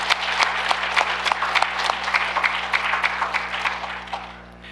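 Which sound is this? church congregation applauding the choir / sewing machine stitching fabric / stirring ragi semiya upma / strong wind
church congregation applauding the choir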